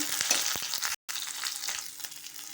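Onions, coconut, roasted gram and fennel frying in hot oil, a close crackling sizzle with stirring scrapes, broken by a moment of silence midway.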